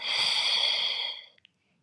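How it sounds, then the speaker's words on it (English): A long, steady breath pushed out through the mouth during a Pilates exercise, close and breathy, tapering off after about a second with two small soft clicks at the end. "Exhale through the mouth."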